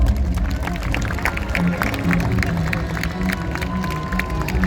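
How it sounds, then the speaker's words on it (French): Crowd at a Parc Astérix diving show applauds and cheers steadily throughout, a dense wash of clapping and voices close around the listener. "Romains, Romaines, applaudissez à tout rompre"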